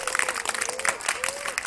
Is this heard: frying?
no